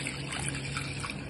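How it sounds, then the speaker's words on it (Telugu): Water pours steadily into a pressure cooker holding moong dal, a continuous close splashing stream lasting a brief moment with no talk. "నేను కుక్కర్ లో వేస్తున్నా చూడండి పోసేనను వాటర్ ని"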